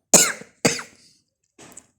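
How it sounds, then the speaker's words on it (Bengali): Two sharp, loud coughs in quick succession from a person with a heavy cough on a cold, rainy day, followed after a pause by a fainter, rougher throat sound; no speech. "আমার প্রচুর কাশি হয়েছে"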